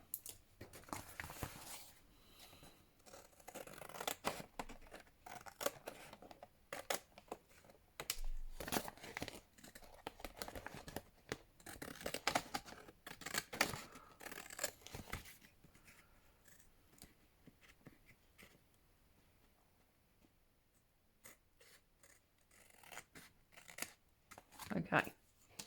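Scissors cutting paper for a snippet journal cover, with quiet close-up snips, rustling and crinkling of paper in irregular bursts, a few faint handling taps, and low speech now and then.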